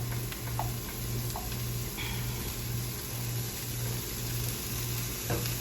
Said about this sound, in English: Same pan, a little more olive oil, put the heat back on. And I'm just going to sweat the onions.